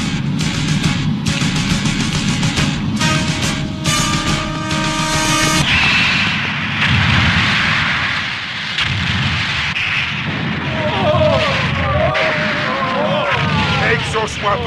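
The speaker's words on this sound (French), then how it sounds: "Sauvons-nous avant que tout n'explose!" Deep, rumbling booms and crashing blasts fill an animated science-fiction series scene, loud and sustained over most of the clip, mixed with musical tones early on and swirling sound effects later.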